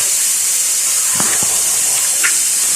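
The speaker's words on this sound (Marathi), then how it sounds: "तर कुकरची शिट्टी काढून घेतली आहे" A pressure cooker on high flame vents steam in a steady, loud hiss through its whistle, the rush holding constant across the whole stretch with a few faint clicks and taps beneath it.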